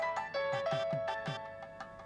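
Mobile phone ringtone, a short melodic electronic tone with repeating notes, moderately clear over faint background noise.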